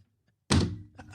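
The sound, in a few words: telephone handset slammed down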